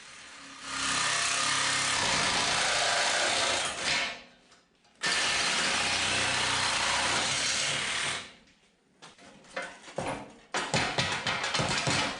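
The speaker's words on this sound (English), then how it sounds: "for that last little bit that I can't fit the grinding disc in, I'm just going to use my Sawzall" A Sawzall reciprocating saw cuts the square steel tube of a Jeep rock slider in two long, loud, buzzing bursts, then a run of short, stuttering cuts, with brief quiet gaps between them.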